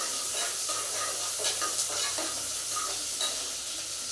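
Onions and green chillies frying in a home pan for tomato biryani, a steady close sizzle with scattered crackles and soft stirring scrapes, no voices.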